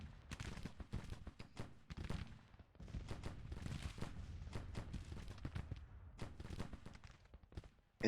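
Artillery and musket fire in the Civil War strategy game Grand Tactician, a rapid irregular string of sharp booms and cracks, fairly faint and continuous, with no talking.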